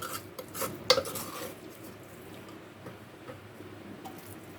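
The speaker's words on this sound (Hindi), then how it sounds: "मैंने हल्का सा ये इसको डाला है और मैं अब इसको मिक्स करूँगी आपके सामने।" Sweet vermicelli zarda, an Eid sawaiyon dessert, is mixed and dished out: a few close spoon clinks and scrapes against a dish bunch up in the first second, then fade to quiet background.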